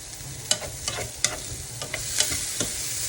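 Seasoning being stirred into shakshuka in a pan, a spoon scraping in several distinct strokes about half a second apart over a steady low sizzle of frying sauce, close and fairly quiet, with no talking.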